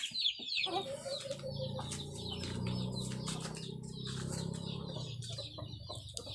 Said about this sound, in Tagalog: So, magpapakain ako ng manok.